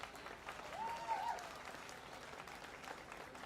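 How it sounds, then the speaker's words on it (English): Quiet, distant applause ripples through the crowd at a county fair 4-H/FFA market hog show after a middleweight champion drive, soft and steady with a faint whistle or voice rising briefly in the middle. "Let's show our appreciation with the biggest round of applause so far."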